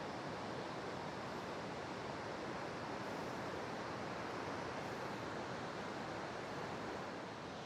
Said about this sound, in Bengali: এইখানে জলের ধারা, এদিকে জলের ধারা, চারদিক থেকে জল পড়ছে পুরো